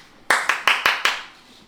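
Hands clap five times in a quick, even rhythm during a cooking challenge. Each clap is sharp and close, and the last one fades into a quiet room.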